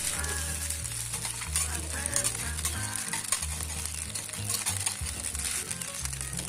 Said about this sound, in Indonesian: Kemudian kita oreng sampai kecapnya tercampur merata